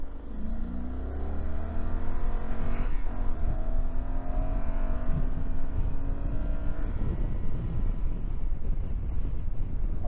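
A 2012 Yamaha XT1200Z Super Tenere motorcycle engine revs up close, its pitch sweeping up and falling back through a couple of throttle blips before settling into a rough, loud idle rumble.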